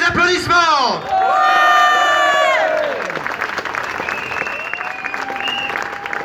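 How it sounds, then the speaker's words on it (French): Crowd applause outside the Assemblée nationale in Paris during a protest for liberty, a loud sustained clapping with whoops and cheers, while voices and a tonal sweep ring over it at the start. "Ça mérite des applaudissements."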